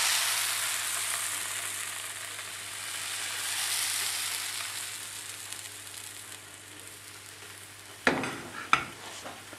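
Crepe batter sizzles in a buttered pan over medium heat, a soft steady hiss that fades over several seconds, followed by two sharp utensil clinks near the end.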